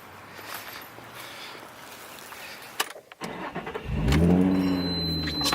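A car engine cranks and catches after a few brief clicks and a door-like thud, then settles into a steady, close idle hum that fills the rest of the moment.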